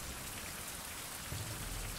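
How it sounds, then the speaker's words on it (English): Rain in the survival video game Survival: Fountain of Youth, a steady dense hiss of falling rain pattering on surfaces, constant and even, with a faint low rumble building near the end and no speech. "I don't think the rain's getting through here."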